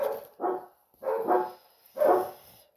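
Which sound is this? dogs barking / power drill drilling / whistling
dogs barking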